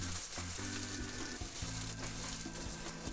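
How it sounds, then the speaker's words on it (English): A garden hose spray nozzle on the jet setting sprays water at aphids on plants, a steady loud rushing hiss with a low rumbling tone underneath, continuous throughout, with no voices. "Turn the nozzle to the jet setting"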